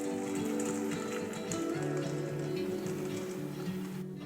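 Water poured from above into a large bowl of dried chickpeas, a soft continuous splashing and trickling that runs quietly throughout at close range.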